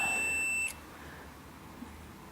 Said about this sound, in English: the buzzer would not sound